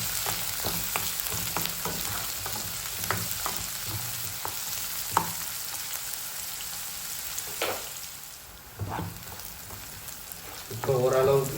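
Sliced ginger and garlic deep frying in hot oil for chicken uppu kari, giving a steady close crackling sizzle with repeated sharp scrapes of stirring throughout.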